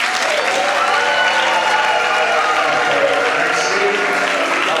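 Audience applause at a wedding blessing, steady sustained clapping from a crowd throughout, loud and close with no break.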